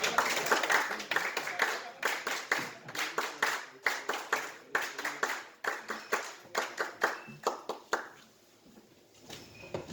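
At a fraternity day gathering in New York, a small group claps for their regional secretary general, uneven close hand claps in quick bursts that thin out toward the end.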